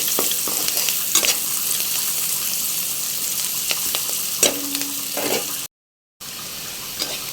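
Onions with turmeric stirred in a frying pan, a steady close sizzle carrying scattered scrapes and clinks of the spatula, broken by a short gap of silence near the end before the frying resumes.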